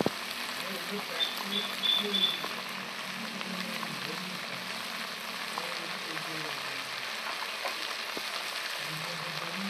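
Pumpkin shoots seasoned with salt and turmeric frying in a pan give off a soft, steady sizzle that stays low and even throughout, with faint small crackles scattered across it.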